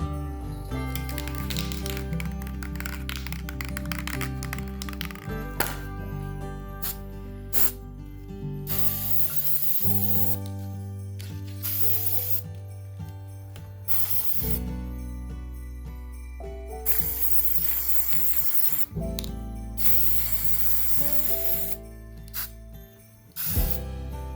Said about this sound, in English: Painting the two with the metallic antique gold spray paint.